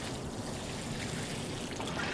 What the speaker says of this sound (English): it's just a light sprinkling of water like so